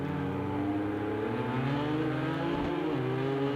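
Race car engines droning in the Ford vs Ferrari game at Circuit of the Americas as one car slipstreams behind a Ferrari up the hill into turn one. The engines hold a steady, loud tone with a slight pitch shift.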